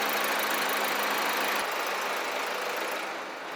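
A 2017 Mazda 6 with the 2.2-litre Skyactiv-D diesel engine idles with a steady, close mechanical drone and a faint, even knock that eases slightly toward the end.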